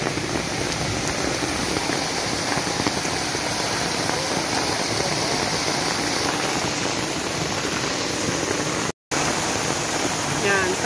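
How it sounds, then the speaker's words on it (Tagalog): Very heavy rain pounding down with a torrent of water rushing off a mountain, a loud dense unbroken roar that fills the whole clip, cut by a brief dropout near the end. "Gawa ng sobrang lakas ng ulan po."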